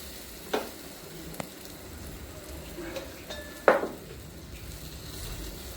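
Masala-coated bread slices frying in a hot pan, a steady low sizzle running throughout with a few sharp knocks and clinks from handling, no talking.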